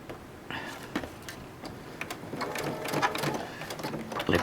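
A sewing machine stitches a quarter-inch seam in steady, fast mechanical bursts with clicking ticks, stopping and starting briefly at close range.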